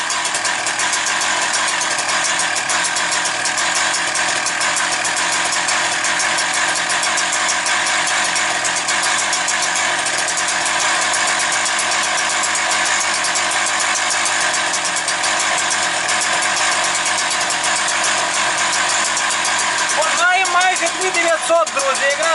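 A Husqvarna 365 chainsaw engine idles in a steady, loud two-stroke buzz that runs unbroken for over twenty seconds, with a brief shift in pitch near the end.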